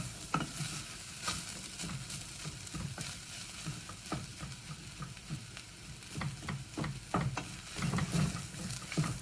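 Veggie mince fries in rapeseed oil in a pan that is catching on the bottom, stirred with frequent scraping strokes over a steady sizzle, close and fairly quiet, no talking.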